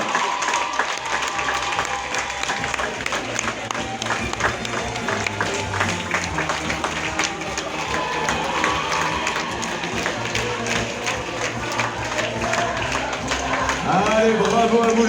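Audience applause and cheering for a French champion rider at an equestrian event, a dense continuous wash of clapping and crowd noise lasting throughout, with an announcer's voice underneath.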